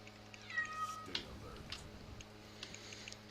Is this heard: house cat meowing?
yes